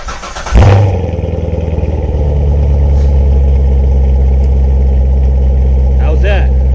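A C7 Grand Sport Corvette engine cold-starts with a loud crank and sharp flare, then drops to a deep, steady, rumbling high idle up close; a brief voice comes in near the end.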